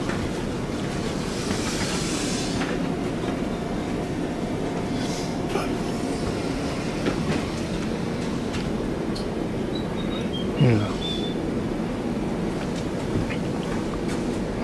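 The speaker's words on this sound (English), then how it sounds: "ScotRail train approaching." Low, steady rumble of a ScotRail train rolling past at a distance near Carlisle, with a brief rising squeal near the end and no talking.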